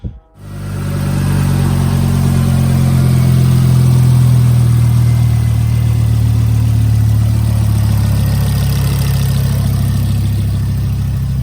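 A Ford Focus ST225 Mk2 engine, fitted with an Airtec crossover pipe, idles steadily and loudly up close, a smooth continuous rumble after a brief click at the start.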